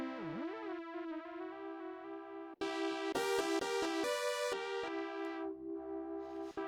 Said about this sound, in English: Bit of delay, bit of distortion on it. Yep. Bit of verb on it.